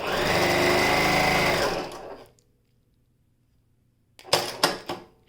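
Janome HD9 sewing machine running at its top speed in a loud, dense whirring burst for about two seconds, then silence, followed by a few short clattering bursts near the end.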